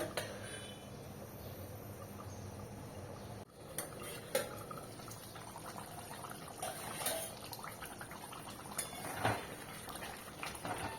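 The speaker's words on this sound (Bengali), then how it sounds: "গ্যাসের ফ্লেমটা একটু কমিয়ে দিয়ে এটা আমি এবার 10 মিনিটের জন্য একটু ফুটতে দেবো।" An egg and pointed gourd curry simmers in a covered pan over a lowered gas flame, giving soft continuous bubbling and patter with a few scattered light clicks and pops.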